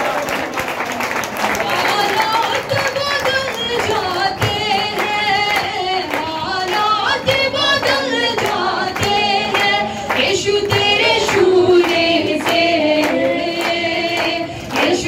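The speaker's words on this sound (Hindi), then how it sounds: "ताली बजाकर परमेश्वर का धन्यवाद करें।" A church congregation claps to thank God during worship. Crisp, rhythmic hand claps run steadily over loud music and singing voices.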